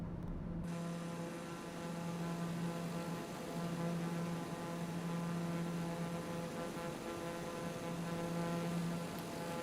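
Airplane in flight in Microsoft Flight Simulator 2024, a constant low engine drone with a faint propeller-like hum, held steady and fairly quiet for the whole stretch.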